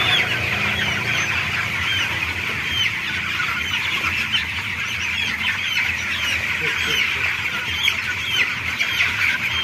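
Many 21-day-old broiler chickens with a mild cold cluck and cheep together in a constant busy chorus, close and fairly loud, with a low murmur of background noise beneath.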